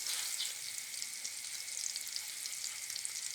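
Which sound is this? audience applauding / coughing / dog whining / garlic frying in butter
garlic frying in butter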